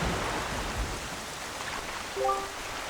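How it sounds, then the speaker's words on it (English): Steady rain falls over a cursed island in The Legend of Zelda: The Wind Waker, a dense, even hiss with a brief chiming tone near the end. "this place suffers under dark clouds and rain"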